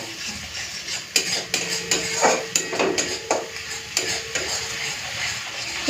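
Masala paste of Kashmiri red chilli powder, hot chilli powder and a pinch of sugar frying in oil, with a constant sizzle broken by repeated sharp scrapes and clinks of a spatula against the pan, close up and with no voices.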